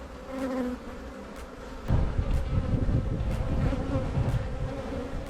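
Honeybees in a colony hum continuously in a dense, close buzz as a new bee emerges from its cell, the drone swelling and staying loud throughout.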